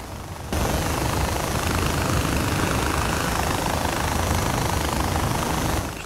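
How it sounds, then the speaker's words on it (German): A helicopter in the video game Far Cry 4 flies low overhead, its loud, steady rotor and engine roar filling the scene without pause. "Weiß nicht, was der für ein Problem hat, der Helikopter. Fliegt schon extra tief."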